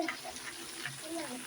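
Shrimp and spinach fry together in a pan with a short burst of soft, close sizzling and light stirring, and no speech.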